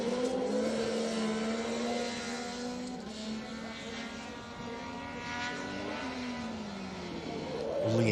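Rally cars on a circuit stage at a Protyre Circuit Rally Championship round, engines droning steadily at a distance, pitch rising and falling as they run the straights and corners, the sound swelling again near the end.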